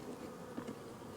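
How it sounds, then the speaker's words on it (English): Honey bees hum in a steady, faint drone around the open top of a hive box fitted with an added empty super, the buzz continuous and low with no talk. "So as you can see, there's a lot of bees"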